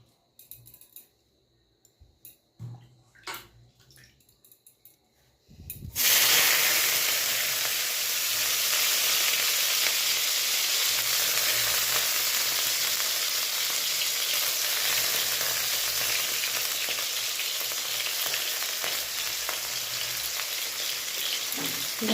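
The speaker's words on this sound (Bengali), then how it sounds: "পেঁয়াজ, রসুন আর লঙ্কা কুচো একটু ভেজে তুলবো না" Chopped onion, garlic and chili hit hot oil in a pan for potato chokha, starting with a few quiet kitchen clinks, then bursting into a loud, continuous hiss of sizzling that holds steady to the end.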